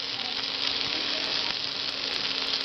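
Raw banana pieces sizzle and fry in a pan, a dense steady crackle with faint pops, close and constant with no talk.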